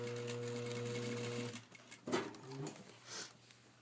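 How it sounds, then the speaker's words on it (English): A sewing machine runs steadily while double top stitching, a close, continuous motor hum for about a second and a half before stopping, followed by short bursts of stitching and handling noise. "Then we're going to come back down and do the double top stitching on the way down here."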